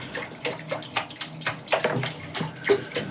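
Water poured into a cooking pan for Maggi noodles, a steady close splashing pour with gurgling bursts, no voices.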